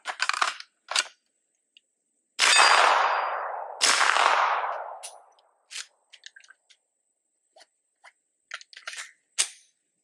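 A rifle fitted with an Armordillo X-Fer V2 suppressor fires two loud, muffled shots, each trailing off over a second or more. Sharp metallic clicks and clacks from the action are scattered before and after.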